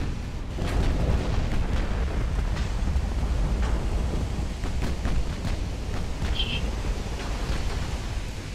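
A naval gun salvo striking a ship in the Ultimate Admiral Dreadnoughts video game, heard as a heavy, continuous rumbling roar with muffled booms that holds steady for several seconds.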